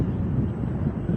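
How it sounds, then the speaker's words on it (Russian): Strong winter wind buffeting the microphone of a rider on an electric unicycle travelling along a city street, a continuous low roaring rumble that stays loud and constant with no voices. "Ветер очень сильный."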